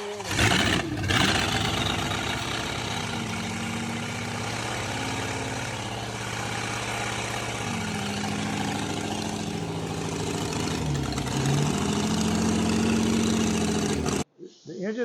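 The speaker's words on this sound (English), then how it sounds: "Well, we did a tentative start on the engine." A 1938 Lincoln Zephyr engine, with its exhaust still being worked on, starts and runs at a steady rough idle for over ten seconds, close and loud, before cutting off abruptly near the end.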